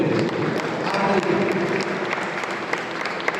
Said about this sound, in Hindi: अगर आखिरी लाइन तक कविता पूछी हो तो ताली बजाकर बताएं